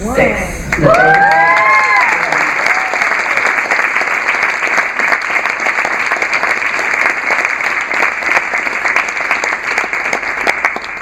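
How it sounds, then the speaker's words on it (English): A large crowd at a charity fundraising event claps and cheers loudly and steadily, with a few excited shouts near the start, the applause sustained to the end. "get ready to clap and get ready to clap hard"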